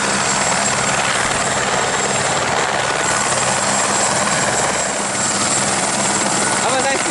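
Helicopter flying at Aconcagua: a loud, continuous rotor and engine roar held steady throughout, close by, with a voice speaking faintly underneath.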